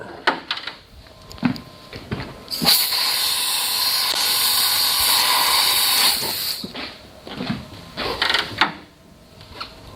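A hot bowl-coring blade being blown out with compressed air, a steady loud hiss lasting about four seconds, framed by scattered knocks and clatter from the workshop.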